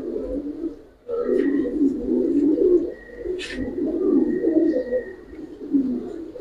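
Giribaz pigeons coo in a loft, a close, continuous layered murmur of overlapping low coos that runs almost the whole time, with a brief lull near the start and faint higher chirps above.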